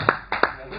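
A few brief, sharp claps from a live comedy show audience, three quick hits within under a second over a faint background hum.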